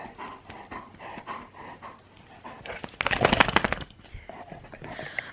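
A dog panting in quick rhythmic breaths close by, with a louder burst of heavy huffing partway through.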